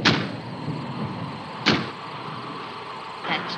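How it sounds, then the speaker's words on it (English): A door banged by the wind in an old mystery film: a sharp knock near the middle and a softer one near the end, both above a continuous rushing wind noise. "That's just the wind banging a door."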